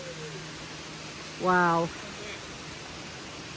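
A waterfall sends a steady, soft roar of even noise through the whole stretch. A person's brief exclamation rises over it partway through.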